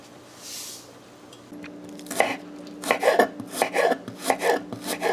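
Scallions being chopped with a knife on a board in a home kitchen, a quiet start and then a run of crisp, irregular cuts close by, with no one talking.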